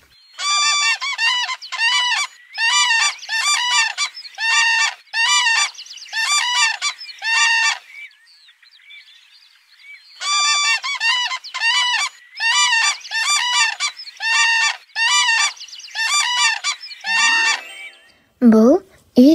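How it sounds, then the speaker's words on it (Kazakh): A long-necked crane calls in loud, close bursts of repeated trumpeting notes, with a short pause midway. The calls sound on their own, with a brief low rumble at the very end. "Бұл тырна, ұзын мойынды әдемі құс. Ұшқанда ерекше үн шығарады."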